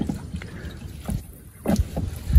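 A small fishing boat moving on water, with close, intermittent splashes and sloshing knocks against the hull, louder bursts near the end over a light wind rush.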